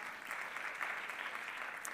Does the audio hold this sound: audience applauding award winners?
yes